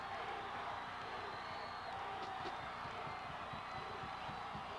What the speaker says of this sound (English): And the crowd from Hutchinson just getting into it big time here